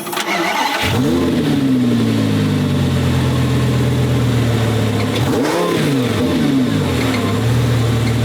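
A Lamborghini engine with a supercharger and valved exhaust, valves closed, starts with a sharp crank. It then idles close by with a muted rumble and a high whine, and is blipped once midway in a rising and falling rev.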